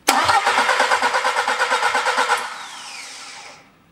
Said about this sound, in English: and I'm cranking the engine.